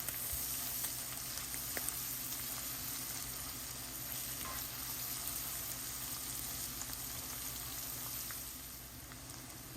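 Noodles with salt, red chili powder and spices sizzle steadily in a pan, a continuous crackling fry with occasional scraping stirs, close and alone without talk.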